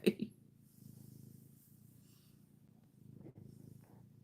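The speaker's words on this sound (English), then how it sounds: "I heard it purring away." A cat purrs steadily and softly up close at night, a low rumbling drone with a brief louder sound at the start and gentle swells in intensity.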